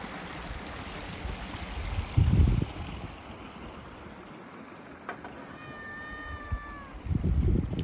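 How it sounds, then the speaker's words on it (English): A cat named Remy lets out a short, clear meow outdoors beside rushing water in Colorado, a single faint rising-falling call over a steady stream hiss, with brief thumps of handling noise. "That's Remy. Meowing to the gods."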